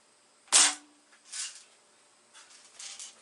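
A Crosman Pumpmaster 760 air rifle pumped ten times fires one sharp, loud crack, followed by softer mechanical clicks and rustles from handling the gun, with no voices.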